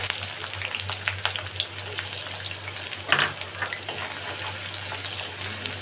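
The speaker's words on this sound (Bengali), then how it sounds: "পেঁয়াজগুলো আমি একটু ভালো করে লাল করে ভেজে নেব" Chopped onions fry in mustard oil in a wok, giving a steady close hiss with a sharper scrape of stirring about halfway through.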